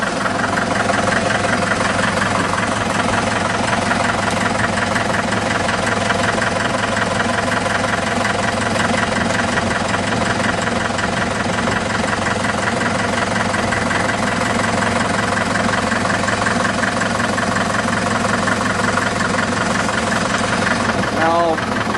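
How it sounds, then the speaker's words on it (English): A Farmall Super MTA diesel tractor engine runs steadily at raised throttle, a loud, constant knocking diesel drone heard from a short distance, with a voice speaking faintly beneath it. "Raise the throttle up, raise the RPMs a little bit so you can hear it run from this distance."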